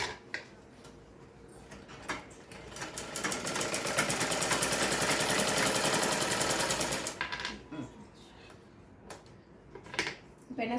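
Sewing machine stitching a blouse, a fast rapid needle clatter that ramps up, runs steadily for a few seconds and stops, with soft handling clicks before and after.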